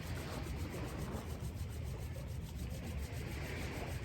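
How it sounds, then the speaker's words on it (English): Hands rubbing quickly together palm against palm, a steady continuous brushing friction close to the microphone with no pauses and no talking. "rub the palms together as fast as you can"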